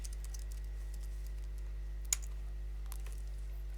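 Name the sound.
typing a name on a computer keyboard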